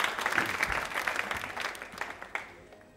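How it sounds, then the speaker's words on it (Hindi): A studio audience at a quiz show applauds loudly, distinct claps bunching into a strong burst that slowly thins out and fades toward the end. "तालियां जोरों से बजाइए इन सभी के लिए आप।"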